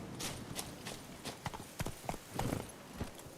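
Horse hooves clip-clop in a steady walking rhythm as the horse Roach moves along in the video game The Witcher 3: Wild Hunt, moderately close and clear with no talk over it.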